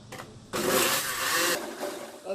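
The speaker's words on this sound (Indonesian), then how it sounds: "Cabenya di blender dulu, kalau udah halus baru deh masukkan bawang putih," A kitchen blender grinds chili peppers for a meat curry, loud and steady for about a second after a brief quieter start, then easing to a lower whir without stopping.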